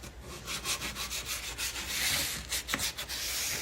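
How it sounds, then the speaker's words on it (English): A wooden paint stick is rubbed back and forth along the ruler edge of a mesh roller, giving close, rhythmic scraping and sanding strokes in quick repeated passes, with no talking. "And I'm going to run this paint stick all along the inside of that ruler."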